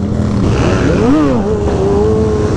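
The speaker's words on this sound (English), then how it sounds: "That dirt bike swerved right into my lane." A dirt bike fitted with street bike fairings swerves close by on a road during a Friday night ride in Florida, its engine pitch rising and falling loudly over a constant roar of wind and road noise.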